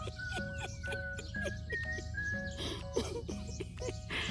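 Chickens cluck repeatedly in short, rhythmic bursts, fairly close but soft, with a faint high tone running underneath.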